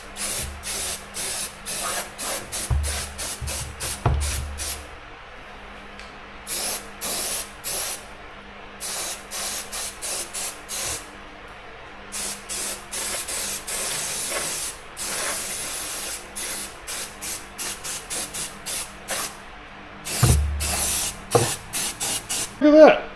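A handheld spray bottle mists Cow RC cleaner onto an RC truck in a long series of short, sharp hissing bursts, mostly evenly spaced with brief pauses. A person talks at times over the spraying.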